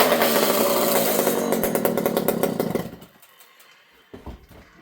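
An old Partner P42 chainsaw engine runs loud and buzzy with rapid firing pulses, then drops to a much quieter, uneven idle after the idle adjustment is lowered, with a brief sputter near the end.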